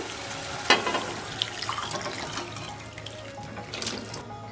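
Boiled elephant apple is poured into a wok, splashing with a wet, running-water quality, a sharp slosh near the start followed by softer trickling and dripping.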